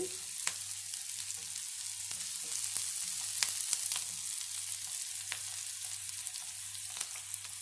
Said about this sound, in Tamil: அதில் பொடியாக கட் பண்ண பெரிய வெங்காயம் 1 சேர்த்து நல்லா வதக்கிக்கலாம்